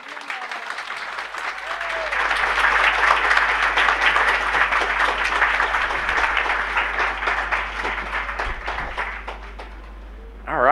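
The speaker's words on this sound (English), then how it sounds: "you have to like clap" Sustained audience applause at a Dragon Con panel on ancient Roman technology for steampunk writers, building up after a quieter start and holding steady before easing near the end, with a low hum underneath.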